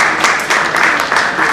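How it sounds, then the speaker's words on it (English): A brief round of applause from a seminar audience on audit trail and NBFC topics, dense clapping that swells and pulses slightly, fairly loud and close, with nothing spoken over it. "Please welcome him to the round of applause."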